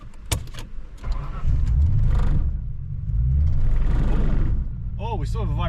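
A car engine runs while the car pulls away from a shed in drive, its rumble rising and falling through the run, with a noticeable vibration. Voices speak over it, and a few short warbling tones sound near the end.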